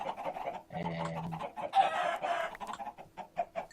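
Video game chickens cluck and squawk in quick overlapping bursts as they are sacrificed, with a short crowing-like call in the middle, close and moderately loud.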